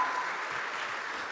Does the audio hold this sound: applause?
yes